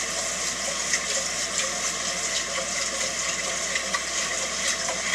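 Cold water runs and splashes steadily over sticky rice being rinsed to wash off its talc coating, a continuous close rushing wash with no voices.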